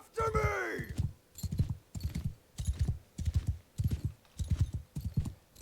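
Horse hooves clip-clop at a gallop in the Mount and Blade 2 Bannerlord video game, a steady rapid rhythm of close thudding beats that opens with a whinny, while someone talks quietly over it.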